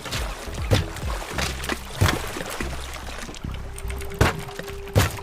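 Splashy drops of objects into ocean water in the Fall Guys video game, several separate plops and trickles spaced over a few seconds with a faint background hum.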